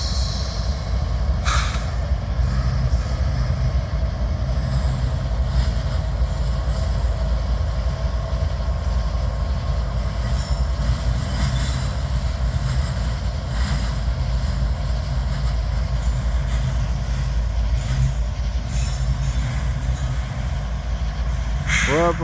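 Train 3166 rolls backward down a hill in Abbeville after stalling, a loud continuous low rumble of locomotive and wagons with occasional metallic squeals and clanks, steady throughout.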